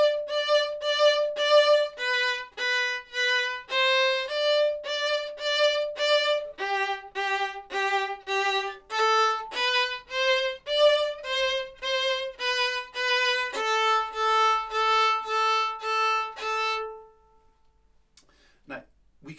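A bowed string instrument plays a Handel chorus line from Judas Maccabaeus in deep, throbbing pulses within one unbroken legato stroke, the notes swelling and dipping in a steady rhythm, close and clear, before stopping near the end.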